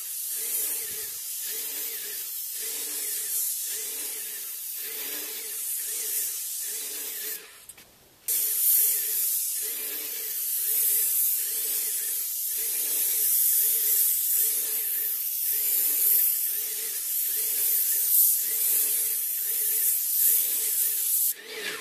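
A paint sprayer steadily hisses while coating a house's exterior siding, a continuous close airy spray with rhythmic pulses as the arm sweeps back and forth, briefly stopping once before resuming.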